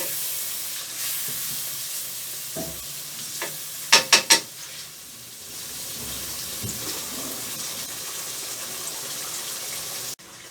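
Chicken karahi stirred in a pan with fresh coriander, a steady sizzle and scraping under a few sharp metallic spoon taps against the pan, close and alone without talk.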